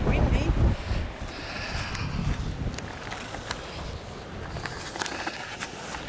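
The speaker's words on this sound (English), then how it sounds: "Oh, she's windy." Strong wind buffets the microphone at a cliff face, a loud rumbling gust at first that settles into a steady roar with faint rattles.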